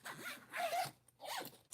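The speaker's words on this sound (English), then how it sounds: "Zip that up." A carry-on suitcase packed with a folding guitar is zipped shut, close to the mic. Three quick zipper pulls rasp in a row, separated by short pauses.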